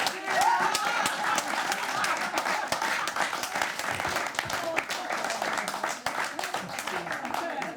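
Studio audience at a Slovenian weekly TV comedy show bursts into applause and some cheering, a dense rattle of many hands clapping steadily at moderate distance, with a voice talking over it.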